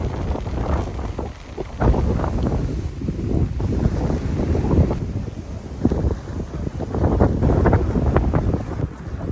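Steady wind buffets the microphone outdoors in front of a car park in Guanyin, Taoyuan, a continuous loud rushing roar with gusts and no talking.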